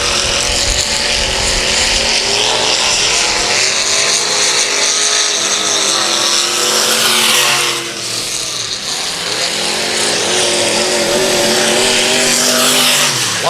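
Race cars at Whiskey Lake Raceway at night, several engines roaring and revving loudly as they pass, pitch rising and falling in continuous waves with no voices.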